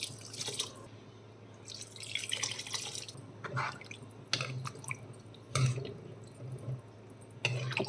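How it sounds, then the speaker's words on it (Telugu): Two glasses of water are poured into a pan of pigeon pea, eggplant and tomato curry, heard as a few short splashing pours and scattered drips, fairly faint and close. "వాటర్ ఒక 2 గ్లాస్ వేసుకుందామండి"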